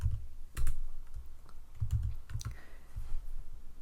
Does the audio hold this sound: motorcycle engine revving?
no